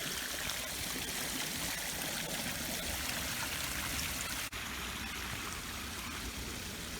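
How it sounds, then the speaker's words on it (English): A small waterfall in Yuengling Bicentennial Park and Gardens pours and splashes steadily, a dense, even rush of water close by with no talking over it. "here's a really neat waterfall scene right here"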